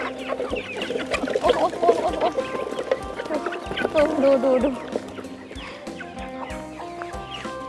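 A flock of hungry home-raised chickens clucks and calls continuously at close range, a busy overlapping chorus of fowl with a voice speaking briefly among them.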